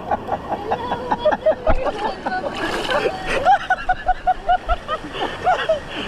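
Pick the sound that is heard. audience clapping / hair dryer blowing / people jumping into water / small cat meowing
people jumping into water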